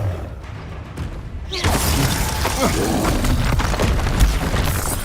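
A Confringo fire spell bursts in Hogwarts Legacy, a sudden loud blast and shattering crash that jumps in after a quiet lead-in and keeps roaring with crackling debris, with a voice heard among the noise.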